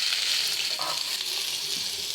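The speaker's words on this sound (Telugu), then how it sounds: "ఇప్పుడు ఆవాలు, జీలకర్ర ఇందులో వేసేసి కొంచెం వేయించుకొని ఆనియన్స్" Mustard seeds, cumin and onions frying in oil with curry leaves in a pan for a carrot curry, giving a continuous loud hiss of sizzling with a faint stir or two, close and steady.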